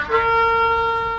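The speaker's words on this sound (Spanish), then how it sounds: "Shevarim son 3 notas cortas" A ram's-horn shofar sounding shevarim gives a bright, trumpet-like horn tone that swells quickly and holds nearly steady, close and fairly loud, with no talking.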